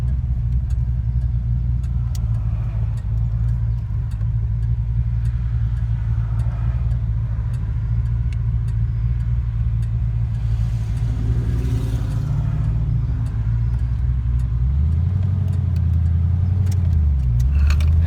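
A Fox body Ford Mustang 5.0 with a 2.70-something rear axle pulls away from a stop sign on a hill, a loud steady low engine rumble heard from inside that rises as it accelerates near the end.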